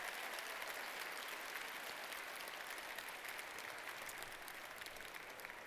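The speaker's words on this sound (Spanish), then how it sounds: "Yeah, let's clap for Eva." Sustained crowd applause for a young girl named Eva at a Gamescom 2017 presentation, a large hall audience clapping steadily at moderate distance with no break for the whole stretch.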